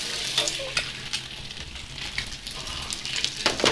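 Egg and rice frying in a pan for nasi kicap, with steady sizzling and intermittent scraping stir strokes from a spatula, close and moderately loud, with no talking.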